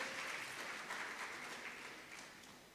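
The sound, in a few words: conference audience applause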